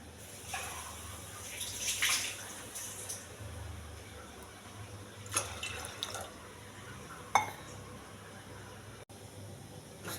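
Water is poured into a pot of rinsed quinoa and moong dal for pongal, a faint, intermittent trickling and splashing in a quiet kitchen.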